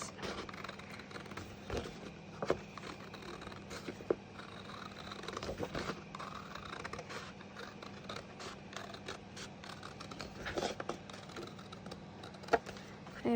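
Scissors snip through paper while cutting out a circle, a run of quiet, close crisp clicks and rustles with the paper shifted between cuts.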